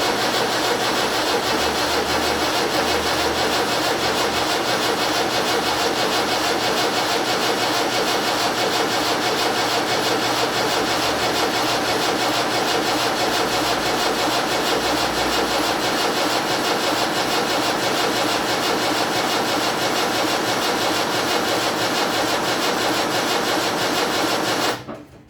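Land Rover Series 3 diesel engine churning steadily on its starter motor, a continuous loud mechanical grind that runs unbroken for about 25 seconds before cutting off abruptly, with no voices.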